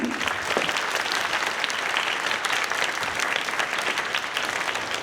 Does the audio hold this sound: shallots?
no